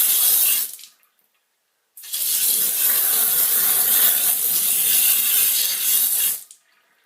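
Water gushes through a Torbeck fill valve under gravity in two bursts, the second a longer steady close hiss that stops abruptly, with silence between them.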